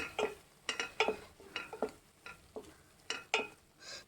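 Masala frying in a pan for stuffed brinjal curry, an irregular series of close, crisp spatula scrapes and taps over a faint sizzle.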